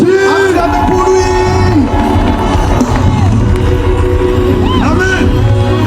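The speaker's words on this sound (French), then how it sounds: "Acclamez pour lui" A large crowd at a religious gathering in Bujumbura cheering and acclaiming, with loud overlapping shouts, whoops and high voices rising and falling in a continuous roar close by.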